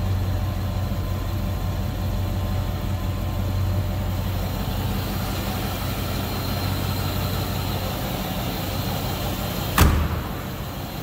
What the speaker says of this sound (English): Pretty smooth running engine.